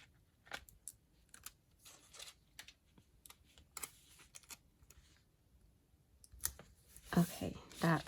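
Scissors trimming paper for a creative journal spread make a string of quiet close snips and small clicks, with papery handling noise and louder rustles near the end, while a person talks softly.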